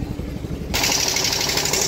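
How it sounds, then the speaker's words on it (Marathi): An ice machine at a fishing dock fills a boat with ice, a steady loud grinding and rushing roar that kicks in partway through over a rumbling engine-like drone. "इकडे बर्फाची मशीन आहे बघा. बर्फ भरतायत."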